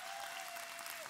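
A church congregation claps together in a dense, continuous wash of applause, steady and fairly quiet, with a sustained tone running through it.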